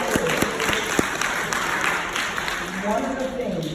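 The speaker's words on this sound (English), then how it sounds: "round of applause" A live audience at a talk breaks into a round of applause, sustained dense clapping with a few sharp louder claps standing out early, fading slightly toward the end as voices rise underneath.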